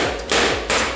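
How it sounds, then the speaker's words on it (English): Two gentle hammer taps land on an old nut set on top of a fin shank screw in a pinball playfield, close and fairly loud, each with a short ringing decay. "and literally just going to"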